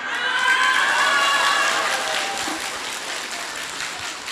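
A Buddhist dharma-talk audience breaks into loud, full applause with some whoops and cheers, strongest at first and then easing slightly while the clapping continues.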